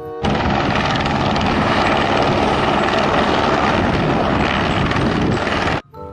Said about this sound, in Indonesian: Lihat, ada helikopter teman-teman.